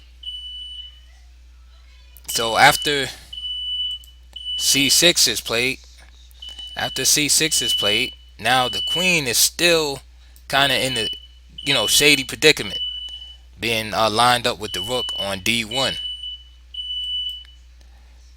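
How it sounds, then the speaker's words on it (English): A high-pitched fire alarm beeps steadily in the background while someone commentates on a chess game continuously over it, the tone persisting through the pauses. "Sorry about that beeping noise. Fire alarm had went off, but there was no fire."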